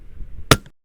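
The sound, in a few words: sniper rifle shot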